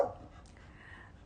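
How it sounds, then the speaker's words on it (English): A pet dog gives a short, faint bark or yelp at the start, followed by a softer whimpering sound indoors, with no talk. "My dog is having a hissy fit."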